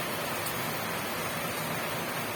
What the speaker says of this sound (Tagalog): Sobrang lakas ng ulan, ayaw na niya nang magpapigil guys.